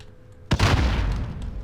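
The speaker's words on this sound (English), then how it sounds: "And another grenade." A grenade explodes in Call of Duty Warzone, a sudden loud close blast after a quiet moment, followed by a long rumbling decay.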